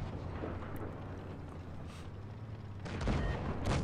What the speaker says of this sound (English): Gets his second shot in there.